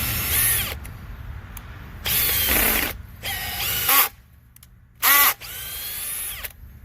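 A Makita brushless hammer drill on setting 15 runs in several separate bursts of high-pitched whine, each lasting about a second, with short quiet gaps between them. The drill is close and loud, and no one speaks.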